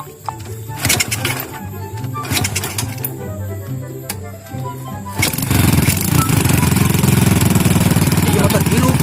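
A motorcycle engine, abandoned by the roadside, runs in an outdoor scene from a Sundanese short film: irregular sputtering and clattering at first, then a steady loud idle rumble taking over for the last few seconds.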